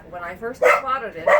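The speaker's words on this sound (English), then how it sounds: "Excuse the dog barking." A pet dog named Tasha barks repeatedly indoors, sharp yipping barks in quick bursts, close and loud, overlapping someone talking.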